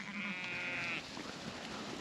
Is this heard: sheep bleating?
yes